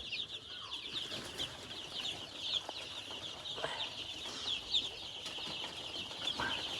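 Young chicks cheeping continuously in a pen, a busy chorus of high, thin peeps close by with a few louder chirps standing out, and no talking over them.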